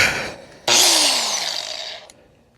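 A cut-off wheel bites into the bolts of a 1988 car's muffler with a loud, close, high-pitched grinding whine. The pitch drops slowly as the cut goes on, and the sound ends abruptly after about two seconds.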